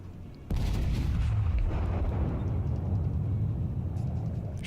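Warspite battleship main guns firing a salvo in World of Warships, a sudden loud boom followed by a long heavy rumbling roar that fills the rest of the clip.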